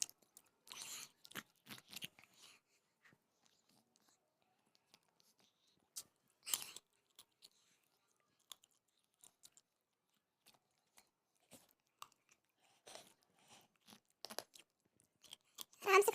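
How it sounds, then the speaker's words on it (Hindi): A child crunches and chews food at home, repeated crisp bites and soft chewing in short bursts with quiet gaps, close and fairly faint. "कुटुम कुटुम बजता भी है। चबा रहा है दांत में है ना।"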